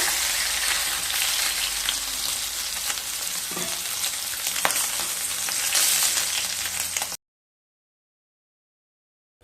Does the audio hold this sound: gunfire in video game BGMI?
no